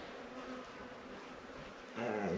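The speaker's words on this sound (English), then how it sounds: "Once again, the bees." Bees buzz steadily outdoors beside compost tea being made, a faint, continuous droning hum that grows a bit louder toward the end, with no voices.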